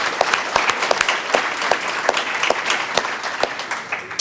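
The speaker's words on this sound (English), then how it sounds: "please, a round of applause, Richard Saunders." Loud, dense applause from an audience, many hands clapping steadily without a break.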